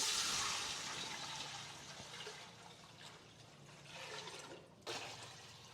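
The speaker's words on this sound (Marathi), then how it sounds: "त्याच्यामध्ये मी पाणी टाकते" About 3 litres of water pour into a cooking pot of biryani in a loud rushing stream that gradually eases and gurgles, then swells again briefly near the end.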